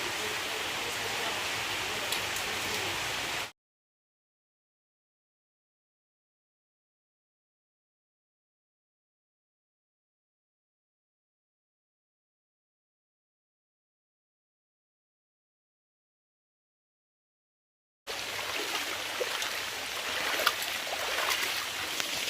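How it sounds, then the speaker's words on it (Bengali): Torrential downpour heard from a street, a dense steady roar of rain in two stretches with a long silent gap between them. "মুসুলধারে বৃষ্টি এখনো বৃষ্টি থামেনি"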